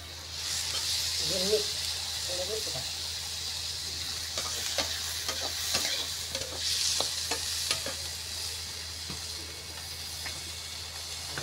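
Cluster bean bhaji with gram flour cooks in a thin pan over a wood-fired chulha, a constant soft sizzle with scattered scraping stirs; a few faint voices murmur early on.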